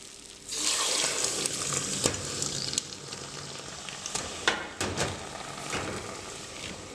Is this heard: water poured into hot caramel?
yes